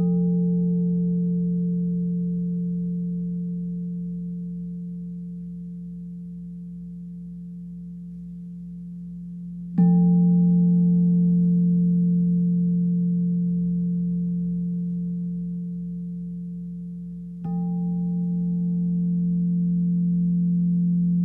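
Crystal singing bowls in a guided sound healing session hum with pure, sustained low tones, struck three times; each strike blooms with a bright ring and then slowly decays into a long, steady drone.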